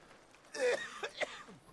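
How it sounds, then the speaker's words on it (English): A person coughs a few times in quick succession, close and fairly loud, with a throat-clearing quality in a quiet room. "Why am I coughing so badly?"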